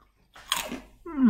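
A few crisp crunches of cheese and onion Hula Hoops potato crisps being bitten and chewed close to the mic, brief and sharp against near silence, followed by the start of a voice.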